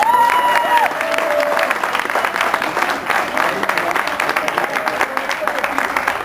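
Concert audience applauding at a tenth-anniversary show, dense sustained clapping with cheering throughout, loud and close, a brief tonal whistle near the start.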